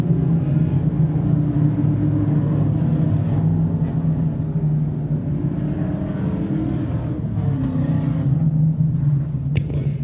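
Crate-class race cars circle a speedway at the Northeast Crate Nationals, a steady loud engine drone with rumbling low tones and shifting pitch as cars pass along the backstretch, a track announcer talking over it.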